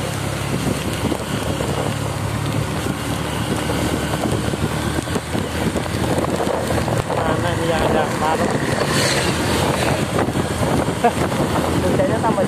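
Heavy rain and wind rush past while riding along an alternative road from Kebumen toward Wonosobo and Banjarnegara, Central Java, a loud, steady broadband roar with a low engine rumble beneath and no pauses.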